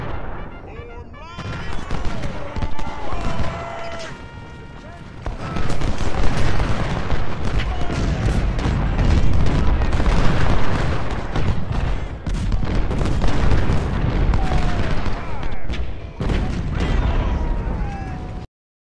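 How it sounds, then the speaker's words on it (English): Civil War cannon artillery in Ultimate General: Civil War booms and crackles in dense, overlapping volleys with rattling musket fire, loud and continuous, with whistling shells and some faint voices mixed in. "find those cannons that have been bombing me for the last hour"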